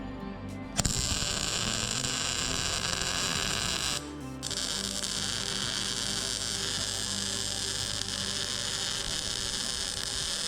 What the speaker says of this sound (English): Go ahead and throw some welds here on this swing arm.